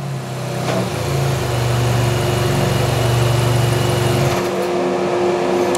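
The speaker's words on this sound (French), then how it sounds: "Je vais peser sur la pédale de frein et le moteur va arrêter automatiquement." GM 1.4L engine on a test bench idling with a steady hum, then cutting out abruptly as the stop-start system shuts it down, leaving near silence.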